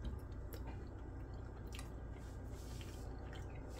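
Someone eats BBQ seasoned pork and pasta at close range, with quiet wet chewing and squishing sounds and no talk.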